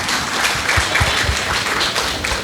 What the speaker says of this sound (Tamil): அதுக்கு ஒரு பெரிய கைத்தட்டு கொடுக்கலாமே